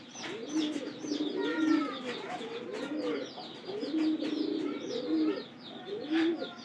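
Pigeons coo in their coop in repeated low, throaty rolling phrases, several overlapping birds close by, with softer chirps and wing shuffles between the coos.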